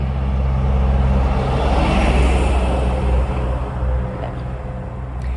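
A car passing close by on a road, a loud steady engine and tyre rumble that swells and then fades over several seconds, with no talk over it.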